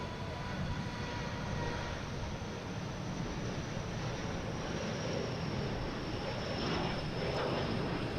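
A Delta airliner passes at Boston Logan Airport, a steady broadband jet roar holding level for the whole stretch with faint wind or surf wash beneath and no speech.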